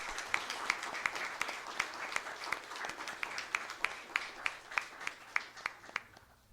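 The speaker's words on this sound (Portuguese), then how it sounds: "Peço então a vocês uma salva de palmas ao morador Paulo Link" A small group in a municipal council chamber claps for a resident called up to the speaker's stand. The claps are fairly faint but crisp, falling into a steady, almost unison rhythm of distinct beats over several seconds.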